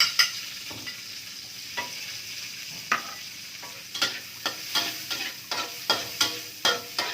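Garlic and chili stir-fry in hot oil in a pan used for tofu, with a bright continuous sizzle and a regular series of spatula scrapes that quicken toward the end.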